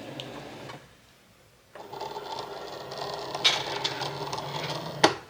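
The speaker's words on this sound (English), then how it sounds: "then it'll start cutting out each individual label for the keychains" A Cricut cutting machine works through keychain labels, a whirring motor broken by a short pause and then a busier buzzing cut with occasional sharp ticks, close and moderately loud.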